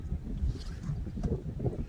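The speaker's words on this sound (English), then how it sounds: "It's a windy day here." Wind buffets an outdoor microphone on a windy day, a low rumbling, gusty roar that swells and dips throughout, with no speech over it.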